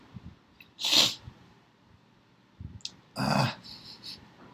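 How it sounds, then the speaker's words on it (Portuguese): Two close, sharp sneezes burst out a couple of seconds apart, each preceded by a short intake of breath, in an otherwise quiet room. "quero espirrar."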